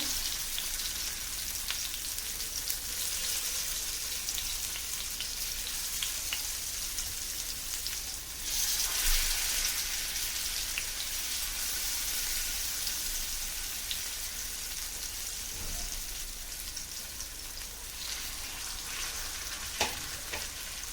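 Yam slices shallow-fry in oil in a pan over low flame, topped with curry leaves, giving a continuous close sizzle and crackle that runs unbroken, with a few brief louder pops and stirring touches.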